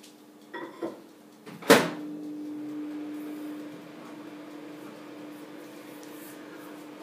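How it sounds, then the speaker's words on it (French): A microwave oven melting butter for a quick chocolate fondant. A few soft knocks, then a sharp door shut, followed by a steady, quiet running hum with a constant tone. "on va mettre 2 minutes au micro-ondes pour qu'il fonde"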